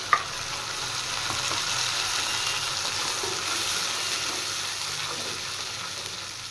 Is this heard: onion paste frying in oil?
yes